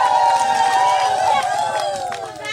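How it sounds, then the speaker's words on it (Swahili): A crowd at a community campaign launch ululating in high, wavering trills, with clapping and crowd noise underneath. "Mimi naomba tumpigie makofi na vigelegele vilivyo."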